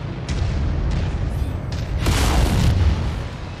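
A destroyed target exploding in the MechWarrior 5 video game, a loud rumbling boom that swells around the middle and rolls off, over continuous heavy low battle noise, with no talk.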